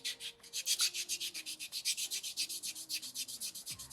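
Sandpaper scrubs a small soapstone loon carving in quick, even back-and-forth strokes, a close, steady rasping rhythm with no voices.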